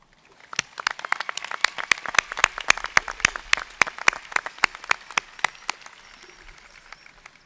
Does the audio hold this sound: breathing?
no